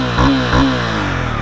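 A 2022 Honda CB300R motorcycle idles with a throbbing exhaust note, then gets two quick throttle blips that rise and fall back to a steady idle, recorded close up.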